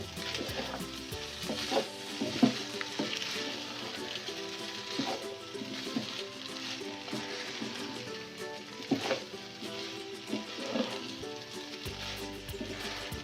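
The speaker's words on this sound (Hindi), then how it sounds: "ये 2 टेबलस्पून मैंने चिली सॉस डाला है इसमें। इसको मिक्स करूँगी।" Chicken macaroni frying in a pan as two tablespoons of chili sauce are stirred in, giving a steady close sizzle with scraping utensil strokes and occasional louder clinks, no voices.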